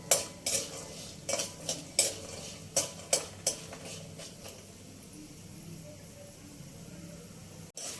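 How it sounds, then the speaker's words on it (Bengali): Peanuts fry over a low gas flame while a spoon scrapes and clinks against the pan in a series of sharp, separate strokes. Between the stirs a faint sizzle continues, and it carries on alone in the final seconds. "বাদাম দেওয়ার পরে গ্যাসের ফ্লেমটা একদম লো ফ্লেমে রেখে বাদামগুলো ভালো করে ভেজে নিতে হবে"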